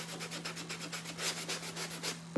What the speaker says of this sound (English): I've ran a sanding block over it myself.